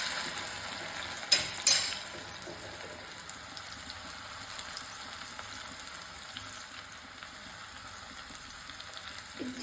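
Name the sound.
garlic paste sizzling in hot oil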